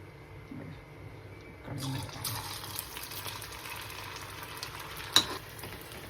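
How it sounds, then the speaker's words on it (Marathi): Steady crackling sizzle of food frying in hot oil in a wok, with a brief louder clink partway through; no talking. "आता हे तळायचे. तर मी ही कढईमध्ये टाकते."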